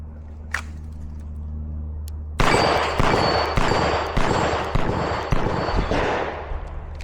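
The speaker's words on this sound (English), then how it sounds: "Let's see how these blue bullets do against steel from 20 yards away." Pistol shots from blue-bullet training ammunition striking steel targets at 20 yards. A quiet start gives way to a loud, rapid string of sharp cracks, with a bright metallic ring lingering between them.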